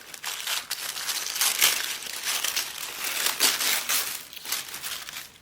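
Paper crinkling and crumpling as a greeting card envelope is torn open by hand, a steady close-up rustle with irregular bursts that continues throughout, with no talking.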